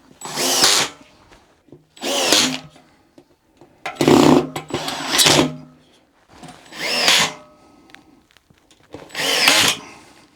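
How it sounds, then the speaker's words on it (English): A powered Phillips driver runs screws into a garage workbench assembly, five or six separate whirring bursts of a second or so each with pauses between, close and fairly loud. "with the Phillips screwdriver, start to tighten down"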